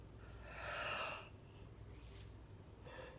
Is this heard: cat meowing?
no